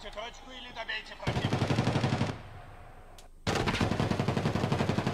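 An HK rifle firing in the Escape from Tarkov Arena game, two loud sustained bursts of rapid fire separated by a short quieter gap.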